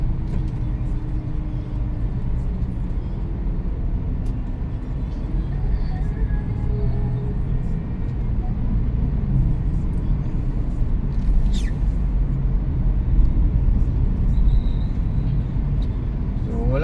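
Continuous low rumble of heavy highway traffic at night on a congested road near an access road toward Quezon City, steady and moderately loud throughout with no speech.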